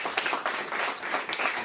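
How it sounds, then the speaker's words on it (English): Audience at Tia Chucha's community center applauding a round of clapping, a dense, steady patter of many hands close by without any talking over it. "a big round of applause"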